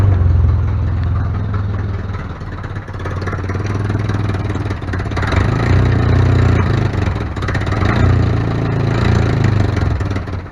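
A 1956 Jeep CJ5 engine running close by with a steady, low, slightly clattering idle that rises a little at times, loud and continuous throughout.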